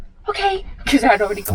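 A sneeze bursts out sharply near the middle amid casual conversation, brief and close, with people talking before and after it.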